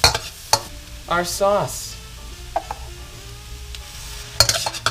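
Broccoli florets, bean sprouts and cauliflower rice are stir-fried in a pan for chicken cauliflower fried rice, with a steady sizzle broken by clattering scrapes and tosses up close, and a few words of speech at the start.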